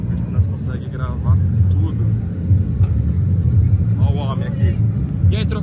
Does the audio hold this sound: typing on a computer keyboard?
no